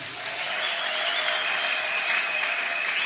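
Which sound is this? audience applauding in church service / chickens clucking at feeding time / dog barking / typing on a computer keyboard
audience applauding in church service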